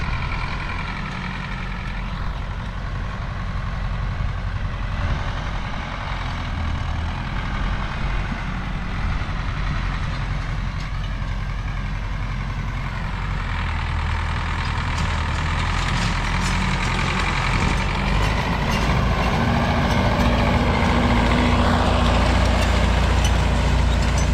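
A YUMZ 8240 tractor pulling a Nodet seeder runs in a field, its diesel engine droning at a steady, close, continuous level with a low hum throughout.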